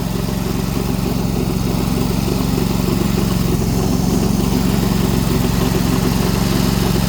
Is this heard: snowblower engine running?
yes